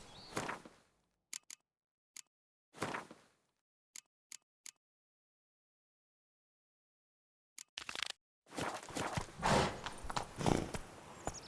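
Horse hooves clip-clop in The Witcher 3, with a few scattered isolated steps followed by a quieter pause, then a busier run of hoofbeats and movement near the end.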